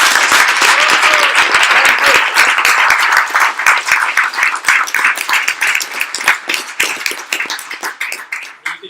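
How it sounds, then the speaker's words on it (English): A room full of people applauds loudly, the clapping thick and sustained at first, then thinning into sharper separate claps that taper off toward the end. "another round of applause"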